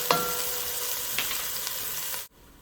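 Garlic and onions sauté in a pan for homemade marinara, a loud, close, steady sizzle with a couple of faint stirring clicks before it cuts off abruptly near the end.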